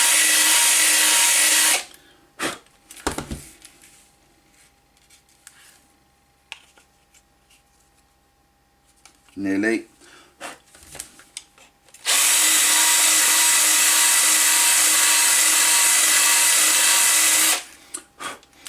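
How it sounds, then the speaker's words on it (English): A power drill bores out a hole on a bench-top power pack build, running loud in two long bursts with a quieter stretch of handling, a short spin-up and a brief spoken word between. "I'm just going to carefully drill out till it's the right size"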